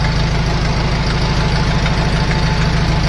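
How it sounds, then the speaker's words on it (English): A Farmall row-crop tractor's 4-cylinder gas engine idling close by, a steady, loud low rumble with an even pulsing beat and a slight knocking texture, alone without talk. "I don't know what kind of engine configuration that would be, that 4-cylinder gas engine."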